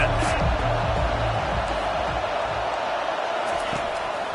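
A stadium crowd in an American football video game roars steadily, a broad, continuous wash of cheering with a commentator's voice talking over it.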